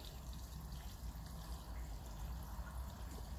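Liquid gushes steadily through a funnel on a 1957 Ferguson 35 TVO tractor, a constant rushing pour that stays even throughout, with no one speaking.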